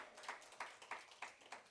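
A church congregation at a sermon claps faintly in a slow, steady rhythm, about five distinct claps spaced evenly, distant and quiet.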